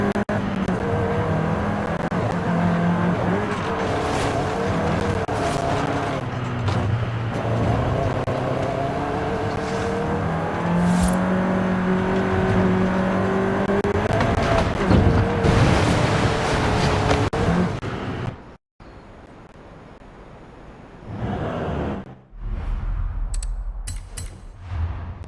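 A seventh-generation Volkswagen Golf R engine in the racing game Forza Horizon 5 drones steadily with shifting pitch for most of the stretch, then cuts out abruptly, leaving quiet gaps and a few brief bursts.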